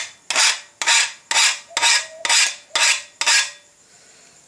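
A hand file rasps across a steel lawn mower blade in six even, loud strokes about half a second apart, each a harsh scraping burst, followed by quiet.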